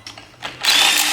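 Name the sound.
ratchet removing thermostat housing bolts on Evo X engine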